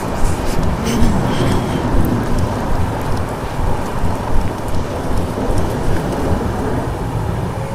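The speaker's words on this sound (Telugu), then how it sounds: "మళ్ళీ ఫుల్గా వాన్ అయితే పడుతుంది" Heavy rain pours steadily in a dense, loud hiss with occasional rumbles of thunder, continuous throughout with no voices, heard during a train journey from Tirupati toward Coimbatore.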